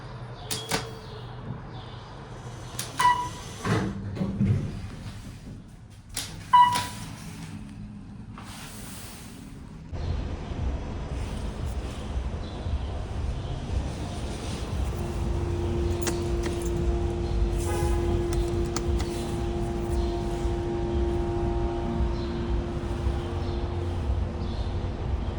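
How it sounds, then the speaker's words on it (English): Hydraulic lines of a 1991 Otis Series 1 hydraulic elevator in a parking garage, running as it descends: a few knocks and clunks, then a steady low rumble and hiss with a faint tone, continuing throughout. "The noise you're hearing is coming from those hydraulic lines right there."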